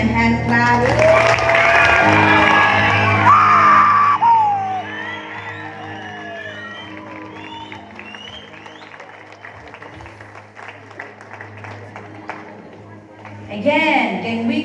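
A graduation audience claps and cheers for the DTS class: loud, sustained applause with whoops and shouts at first, then it thins to lighter clapping under a low music bed, and a fresh burst of cheering rises at the end.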